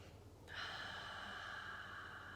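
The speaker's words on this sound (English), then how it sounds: "One more deep breath." One long, deep inhale begins with a sharp onset and continues as a steady, airy breath, close and quiet, with no talking.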